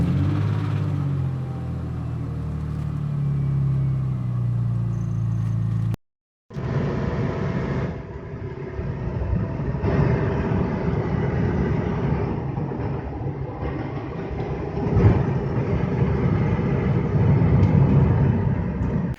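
A BMW E30 fitted with a turbocharged M52 engine drives on a winter road, giving a steady loud engine and road rumble after a brief cut, with the drone swelling slightly toward the end.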